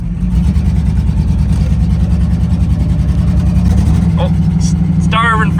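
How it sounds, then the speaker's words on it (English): A barn-find square body truck engine runs loud and close with a rough, uneven idle, lean and starving for fuel, and occasional irregular backfire-like thumps. Voices can be heard briefly near the end. "She's backfiring. She's running, she's moving."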